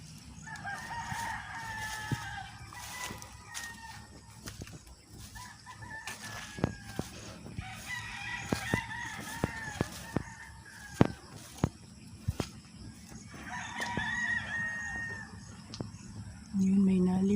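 Chickens cluck and a rooster crows repeatedly at a farm shelter on a rainy, muddy day, with several crows rising over the clucking and scattered sharp knocks, and a voice speaking at the end.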